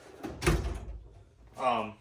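Husky toolbox drawer with stiff slides being pulled halfway out, giving two short bursts of rumbling metal-on-metal sliding a second apart, close by and fairly loud.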